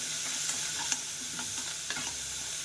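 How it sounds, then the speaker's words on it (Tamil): Onions sizzling steadily in hot oil, with a spoon stirring and scraping the pan a few times; close and continuous, no voices. "வெங்காயம் நல்லா வதங்கட்டும்"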